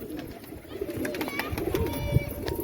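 Pigeons coo softly at a pigeon house, a few low throaty calls repeating close by, mixed with faint chirps and light background noise.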